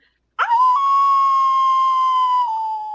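A person imitates a werewolf howl with a single sustained, steady, whistle-like tone that starts abruptly, holds for over two seconds and dips slightly at the end, loud and close with nothing else heard.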